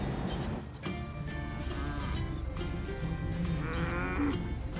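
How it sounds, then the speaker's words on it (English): Cattle crossing a road in New Zealand and causing a traffic jam, with repeated loud moos from nearby cows over a steady background rumble of idling traffic. "I know, it's cow crossing."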